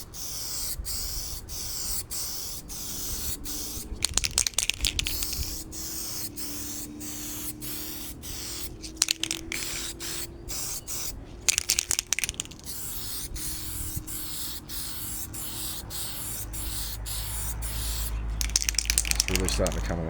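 An aerosol can of spray paint hisses in repeated short bursts as coats go onto a 3D-printed RC vehicle part, the sprays loud and close with pauses between them and a low background hum.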